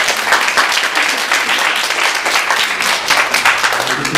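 A church congregation applauds during a Sunday worship service, celebrating a baby's first hundred days. Dense, steady clapping fills the room evenly throughout, with no talk over it.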